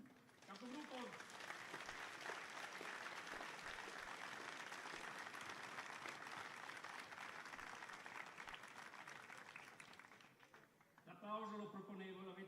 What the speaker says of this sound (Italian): L'applauso lo proponevo, l'avete fatto